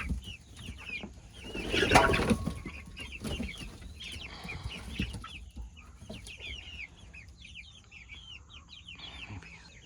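Backyard chickens in a coop, several hens clucking and chirping in scattered bursts nearby, with a louder rustle or flutter early on.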